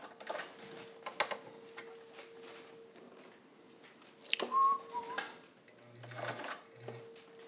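A Kenmore 158.1750 sewing machine stitches slowly and back tacks, giving a quiet, uneven run of mechanical clicks and whirs with a few short stops and restarts and a thin motor whine, all close and fairly faint.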